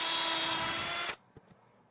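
A power drill pre-drills a hole in wood, whirring steadily and close for about a second before cutting off abruptly, followed by a couple of faint knocks.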